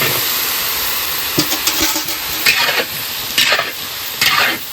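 Potatoes frying and being stirred in a pan: a steady close sizzle with scraping stir strokes repeating every second or so, no voices.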